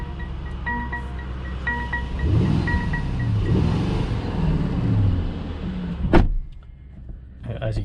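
A 2021 Mercedes-Benz GLE 580 with a twin-turbo V8 engine, heard from inside as it revs up in rising and falling sweeps under steady cabin road noise, with a couple of soft chimes and a click near the end.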